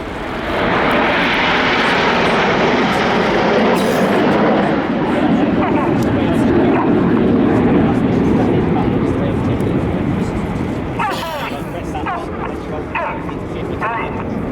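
RAF Red Arrows jets pass with smoke on at the Royal International Air Tattoo 2016, a loud rushing jet roar swelling and holding from left to right, with a commentator's voice over a PA and crowd noise underneath.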